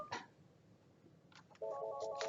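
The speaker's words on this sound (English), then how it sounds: "my phone's ringing" A mobile phone rings with a short, quiet electronic tone, a brief soft sound at the start followed by a steadier repeating ring near the end, with no talking.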